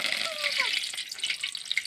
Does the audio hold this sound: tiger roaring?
no